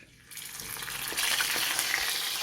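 Sausages drop into hot oil and sizzle, a hiss that swells quickly and then holds as a loud, steady crackling fry close by, with no voices.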